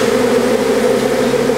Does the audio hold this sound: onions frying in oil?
no